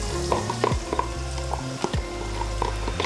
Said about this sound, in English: Our garlic in there, get that sweating real nice.